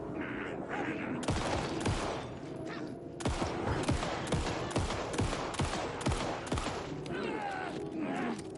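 Repeated gunshots fire steadily at enemies in Alan Wake II, a rapid run of sharp cracks lasting several seconds, moderately loud over tense game ambience with some voice present.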